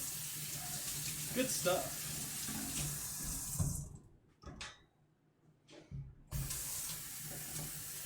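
Water from a kitchen tap splashes steadily into a sink as a cream bottle is rinsed out, pausing briefly with a few clinks before the flow resumes; a voice speaks briefly.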